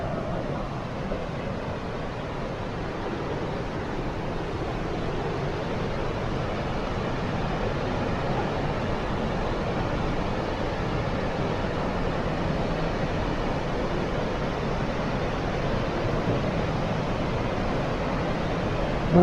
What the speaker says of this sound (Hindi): बहुत ही खूबसूरत वाटरफॉल है, सुभान अल्लाह।